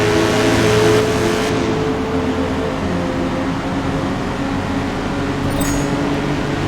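A BMW 2002 Turbo engine in the Forza Motorsport racing game holds a steady, loud drone, idling or cruising with a faint rise and fall, no talk over it.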